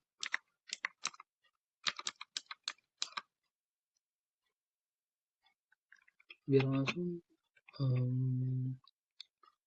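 Computer keyboard typing an ipconfig command during a computer networking practical, bursts of quick key clicks in the first three seconds, then a couple of short voiced sounds near the end.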